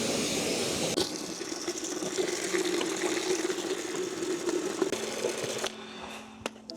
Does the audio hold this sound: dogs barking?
no